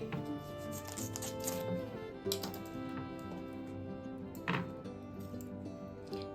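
A small cabbage being cut with a knife, with irregular crisp chopping taps scattered through the stretch and quiet background music underneath.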